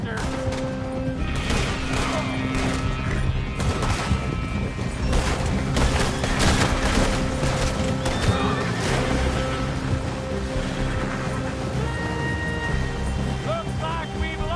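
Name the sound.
gunfire in a shootout, from video game Red Dead Redemption 2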